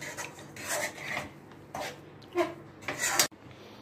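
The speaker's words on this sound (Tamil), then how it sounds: "இப்போ நல்லா மசிச்சு இது வதக்கியாச்சு இந்த உருளைக்கிழங்கு." Boiled potatoes being mashed and stirred in a kadai pan while sautéing for alu chapathi, a few scraping and rasping strokes of a utensil against the metal pan, separated by short pauses, close and fairly soft.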